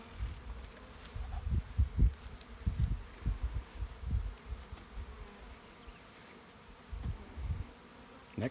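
Honeybees from a package being installed into a second hive, buzzing close by in uneven swells and dips with no talk.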